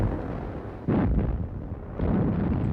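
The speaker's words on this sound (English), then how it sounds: "These guns were pointed and firing right down on the beach" Artillery guns fire down on a beach in a war documentary scene, two heavy booming blasts about a second apart, each followed by a rumbling roll, loud and close with no talk.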